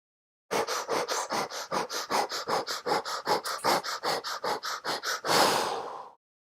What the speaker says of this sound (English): Now we ignite a fire breath.